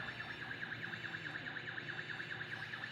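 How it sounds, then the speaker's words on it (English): A faint, rapid warbling electronic alarm on a Lift Hero CPD30 6,000 lb electric forklift beeps continuously in a fast regular pulse over low machine hum. "There's your alarm."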